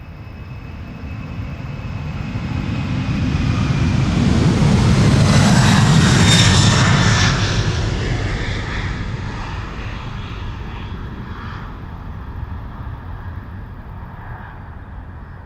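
A KLM Cargo plane bound for Miami takes off from Amsterdam's Polderbaan runway, its engine roar swelling to a loud peak as it passes, then fading into a long, steady distant rumble with no talking.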